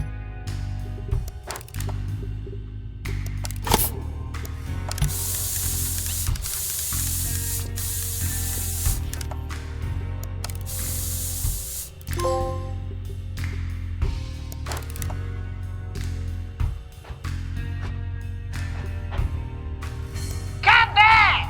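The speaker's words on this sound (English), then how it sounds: "Blue spray paint," A spray can hisses in long bursts during blue spray painting in the VR game Retropolis 2: Never Say Goodbye, with mechanical ratcheting clicks, game music and a character's voice throughout.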